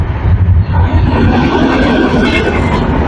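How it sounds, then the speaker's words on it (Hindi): Telangana Express train running past on Indian railway tracks, a loud, steady rumble of wheels and carriages close by, continuous through the moment with no voices. "ये ट्रेन कोई और नहीं, तेलंगाना एक्सप्रेस है।"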